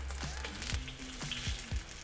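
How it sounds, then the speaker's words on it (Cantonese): Ginger sizzling in hot oil in a wok, a faint, steady frying hiss running unbroken for two seconds with no voices. "首先燒紅個鑊先啦，跟住落啲油，"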